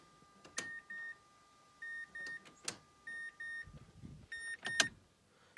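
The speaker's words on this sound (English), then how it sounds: "you'll hear the fuel pump priming itself." A 2012 MazdaSpeed 3's newly installed AutoTech HP fuel pump hums faintly while priming, as chimes and beeps repeat in short bursts, with a few clicks between them.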